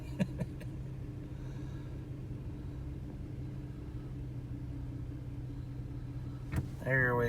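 Road traffic passes near a metal-detecting site, a steady low rumble of a car holding for several seconds, with a few sharp clicks at the start and a louder burst near the end.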